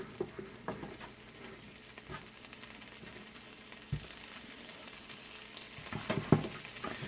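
Pieces of Polish sausage frying in a pot for bigos, a soft steady sizzle with scattered crackles and a few stirring clatters, growing busier near the end.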